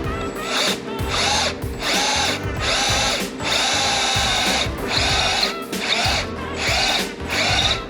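A power drill whirs in repeated, steady bursts with brief pauses between them, loud and close, with a ratcheting mechanical grind underneath.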